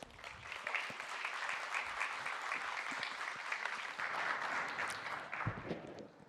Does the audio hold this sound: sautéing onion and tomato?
no